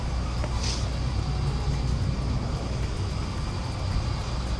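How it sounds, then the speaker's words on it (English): Continuous traffic on a busy street, a steady low road rumble of passing vehicles with no distinct events, heard from nearby inside a moving vehicle. "So we're on a busy street, meaning it's not a side street."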